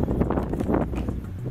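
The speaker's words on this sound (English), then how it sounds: "It's a bit windy on the side of the island." Gusty wind on Otamahua/Quail Island buffets the microphone with a low, rumbling roar that rises and falls unevenly throughout.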